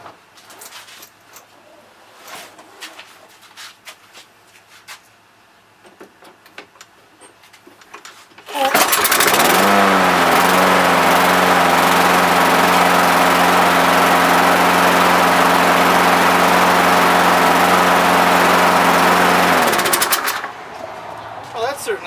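After quiet handling noises, a Toro lawn mower engine with a freshly cleaned carburetor fires up on a truck tailgate and runs at a loud, steady, close chatter for about twelve seconds before shutting off.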